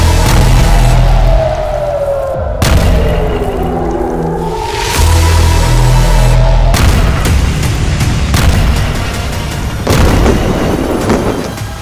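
Bombing explosions in news footage from the Gaza Strip: repeated deep, heavy booms and rumbling blasts that follow one another over about twelve seconds, loud and continuous, with rolling low-end reverberation and a sweeping tone in the background.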